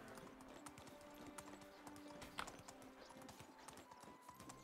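Horse hooves clip-clop steadily as a horse is ridden in the Medieval Dynasty video game, a quiet, even trotting rhythm over faint sustained background music tones.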